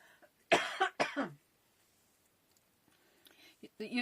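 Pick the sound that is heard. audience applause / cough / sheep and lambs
cough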